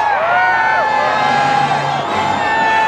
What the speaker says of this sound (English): thousands, as always, cheered the arrival of the new year